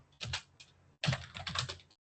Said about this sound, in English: I type the quit command